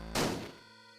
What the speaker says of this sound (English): I don't know why shooting the crossbow would help me